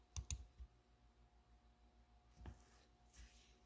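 Mouse clicks on a computer in a quiet room, a couple of close, crisp clicks at the start followed by another faint click or two later, with no talk.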